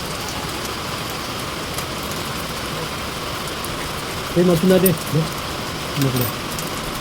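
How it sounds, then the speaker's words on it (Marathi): Steady outdoor rain hisses evenly and continuously throughout, fairly loud, with a man's brief speech breaking through over it near the end. "आणि पाऊस आहे 12 वाजेपासून पडतो मस्त"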